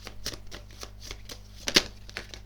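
Tarot cards being shuffled by hand in quick repeated riffles and slides, a steady papery rhythm close by with one slightly louder snap near the end, no voices.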